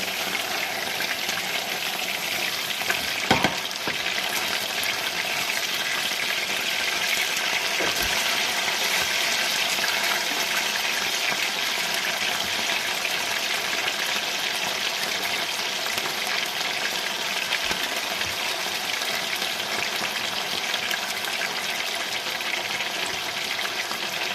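Chicken breast marinated in mineral water and spices fries in hot oil, giving a loud, continuous close-up hiss with a few sharp pops throughout.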